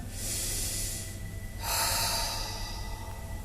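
A forceful exhalation during a Pilates exercise at home: two long, loud breathy whooshes close to the mic, the second starting midway and carrying to the end, with no talking.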